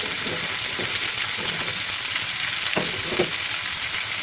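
Spices (masala) frying in a hot pan, a loud constant sizzle with a few soft stirring knocks, no voices.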